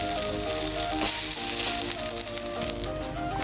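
Food sizzles steadily in a hot, lightly oiled frying pan, a continuous bright hiss with a brief louder flare partway through and faint tonal kitchen hum beneath.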